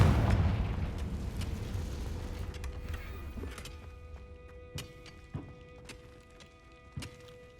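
A Confringo blasting spell in Hogwarts Legacy erupts as a loud boom that decays into a rumbling tail, followed by a few fainter sharp pops and thuds over the next several seconds.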